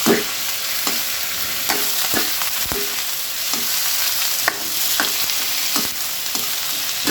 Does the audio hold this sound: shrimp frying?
yes